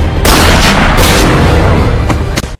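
Gunfire in an action film: loud sharp gunshot bursts, several close booms in quick succession over a dense, noisy soundtrack.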